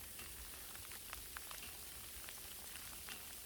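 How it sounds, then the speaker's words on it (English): Freezing rain falling outdoors near a swamp, a faint, even patter of drops with scattered small ticks, no voices. "it's a good freezing rain coming down right now"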